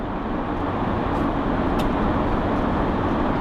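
A Hymer ML-T 4x4 motorhome engine droning steadily under 1,800 revs inside a tunnel, a dense continuous road and engine rumble with no talk.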